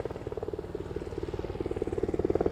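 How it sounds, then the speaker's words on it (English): A rescue helicopter passes overhead near a landing spot during flood rescues, its rotor thudding in a fast, regular chop that grows louder and nearer toward the end. "we have a helicopter coming above us right now"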